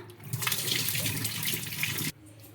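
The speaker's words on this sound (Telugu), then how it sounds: "సెకండ్ టైం కూడా ఇంకా వాష్ చేస్తున్నాను వాటర్ అయితే పంపేసుకుంటున్నా" A tap runs steadily into a bowl as flattened rice (poha) is washed a second time, a continuous close splashing rush that cuts off abruptly near the end, leaving quiet room tone.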